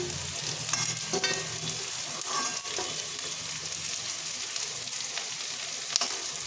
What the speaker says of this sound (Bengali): সব কিছু একসাথে ভালো করে ভেজে নিচ্ছি